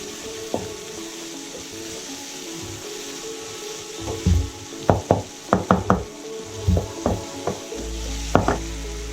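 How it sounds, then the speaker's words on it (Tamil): Masala frying in oil in a pan for road-side empty salna, a steady sizzle broken by a series of sharp knocks and scrapes from stirring, close and moderately loud with no talking. "எண்ணெயிலே ஒரு 2 மினிட்ஸ் நல்லா ஃப்ரை பண்ணிக்கலாம், அந்த பச்சை வாசனை போகிற அளவுக்கு."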